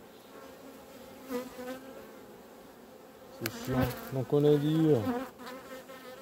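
Honey bees buzz around a beehive frame, a dense, close insect drone throughout, while someone speaks over it in the latter half.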